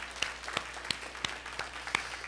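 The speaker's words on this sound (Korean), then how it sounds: "우리 하나님께 박수를 한번 돌리겠습니다" A church congregation applauds during a Sunday morning worship service: sparse, faint claps at a slow, uneven pace, heard distantly over a steady low background hum.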